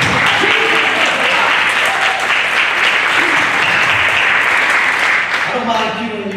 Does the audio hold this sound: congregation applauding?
yes